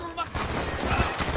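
Call of Duty gunfire comes as one dense, loud, rapid burst of shots filling the moment.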